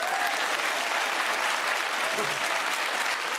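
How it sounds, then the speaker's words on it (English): Studio audience applause at a television comedy panel show, a loud, continuous wall of clapping sustained at an even level from start to finish. "Big round of applause plus you."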